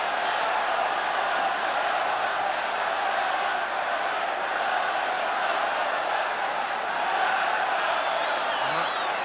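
Football supporters massed behind the goal during a snowy match, a dense continuous roar of crowd noise with shouting and whistles, loud and unbroken throughout.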